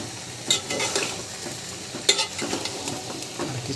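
Papaya pieces frying and being turned in a pan for a rohu fish and papaya curry: a steady sizzle with two sharper scraping stirs of the spatula and lighter clinks in between, close and without voices.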